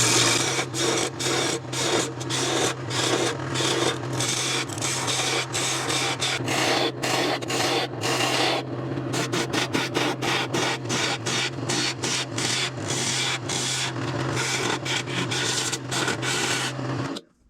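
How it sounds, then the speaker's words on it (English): A bowl gouge cuts wood on a lathe with a continuous loud scraping rasp that pulses as the tool rides the spinning piece, lasting nearly twenty seconds before stopping abruptly. "now I'll get my bowl gouge, take some of this material off."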